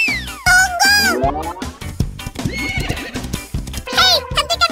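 A cartoon seahorse whinnies like a horse, with bright, wavering neighs repeated over several seconds. Lively cartoon sounds play underneath and a voice speaks briefly.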